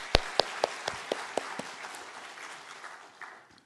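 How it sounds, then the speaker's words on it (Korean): A church congregation at an early-morning special prayer service claps in thanks to God, with several sharp, evenly spaced claps up front that blur into a brief wash of applause and fade out. "우리 한번 하나님께 감사의 박수를 드리겠습니다"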